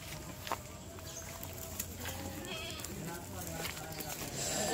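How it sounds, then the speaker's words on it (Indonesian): Javanese goats for sacrifice are on sale at a livestock market. Faint bleats rise among a busy background of people talking and general pen noise. "Ini kambing Jawa ini."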